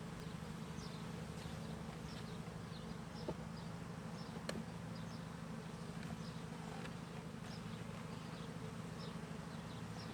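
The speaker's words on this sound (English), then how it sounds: "Watch out, bees." Honeybees buzz steadily around an open beehive during a month-two hive inspection, a dense, continuous drone close by with individual bees passing near, no talking.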